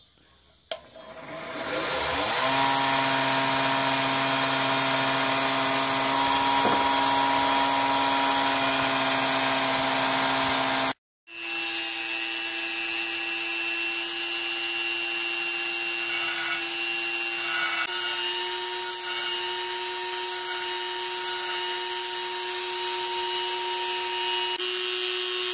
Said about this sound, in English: Polishing.